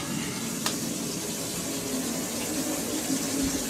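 A steady, soft rushing hiss like water running from a tap continues throughout, with a brief sharp click near the start.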